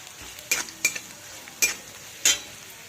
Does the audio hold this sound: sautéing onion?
yes